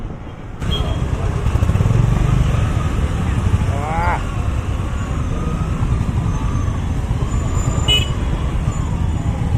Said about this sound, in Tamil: செம்ம டிராஃபிக் காய்ஸ்